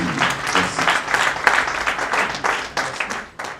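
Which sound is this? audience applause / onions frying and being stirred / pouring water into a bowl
audience applause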